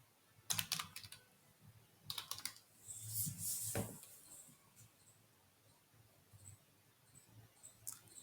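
Keywords typed on a computer keyboard: scattered bursts of quiet, close keystrokes with short gaps, a brief dense flurry in the middle, then a few isolated clicks.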